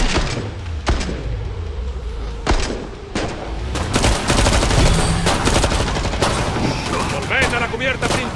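Rapid bursts of gunfire in Killing Floor 2 crackle and boom in quick succession, loud and dense, with brief gaps between volleys.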